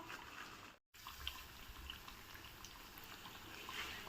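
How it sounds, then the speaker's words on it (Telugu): Minapa vada, round lentil fritters with a hole in the middle, fry in hot oil with a faint, even sizzling hiss that continues throughout apart from one brief dropout. "గారెలు బాగా ఉడుకుతున్నాయి."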